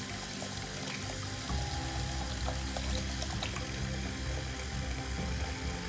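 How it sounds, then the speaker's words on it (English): Hot water runs steadily from a faucet into a sink, a continuous close splashing stream with no talk. "Hot water from the faucet is the best way to rinse your OmniShaver's blades"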